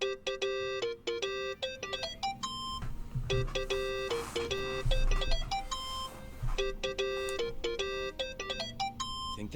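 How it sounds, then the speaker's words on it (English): A mobile phone rings in the video game Yakuza 7, a repeating electronic melody of bright beeping tones in short phrases with brief gaps, loud and continuous over a low background rumble. "Think that's your phone."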